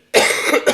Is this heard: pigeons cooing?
no